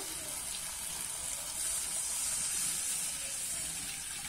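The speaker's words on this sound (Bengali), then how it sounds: "এবারে কিন্তু আমি জল দিয়ে দেব।" Water poured into a hot pan of cauliflower gives a steady, bright sizzling hiss that swells slightly midway and holds throughout.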